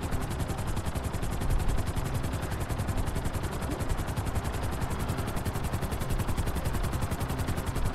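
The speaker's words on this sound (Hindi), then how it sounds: "ओके थोड़ा ऊपर ले लेते हैं हेलीकॉप्टर को।" A helicopter flies in the video game GTA 5 with a steady, loud, rhythmic rotor chop and engine roar that stays close and continuous throughout, with no talking.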